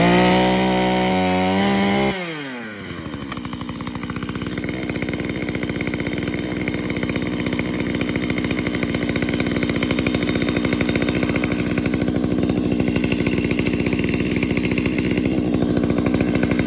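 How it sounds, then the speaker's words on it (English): A chainsaw makes a flush cut through an invasive shrub stump at ground level, starting at a high idle whine, dipping, then holding a loud, steady near buzz under load for the rest of the clip. "here's a pretty simple flush cut with a chainsaw"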